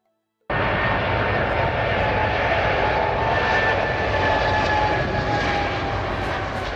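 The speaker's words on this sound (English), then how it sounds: "Boeing 777-200LR, known as the world's longest range commercial aircraft" Boeing 777-200LR long-range airliner jet engines roar in a loud, steady broadband rush with faint tonal whine, starting abruptly and holding constant with no talk.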